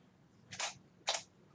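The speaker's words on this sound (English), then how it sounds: "if you hear a shutter in the background" Camera shutter of a single-lens reflex camera firing twice, two crisp separate clicks about half a second apart, near and fairly quiet in an otherwise still room.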